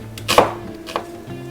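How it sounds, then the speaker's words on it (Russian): A knife slices an onion into thin half-rings on a cutting board, giving two crisp chops close by with a short pause between them and no talking. "Лучок нарезаю тонкими полукольцами."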